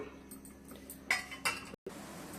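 A metal lid set onto a pot of rava bath brings two quick clinks of metal on metal, followed by a brief full silence. The sounds are faint and close, with no talking.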